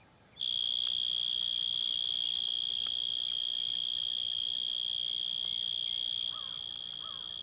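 A loud, continuous high-pitched trill of male mole crickets singing starts abruptly and holds steady, droning on alone against quiet background.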